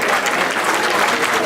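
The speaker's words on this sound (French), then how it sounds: "Sous vos applaudissements, s'il vous plaît." A banquet audience at La Gauloise's 127th annual dinner applauds the president as he is introduced, a loud, dense, continuous wash of clapping from a full room.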